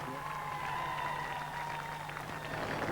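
Marathon spectators along the final mile of the 1996 London Marathon send up a continuous roar of cheering, clapping and shouting, loud and steady throughout.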